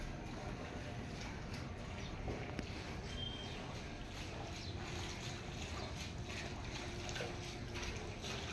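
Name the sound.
water on a flooded street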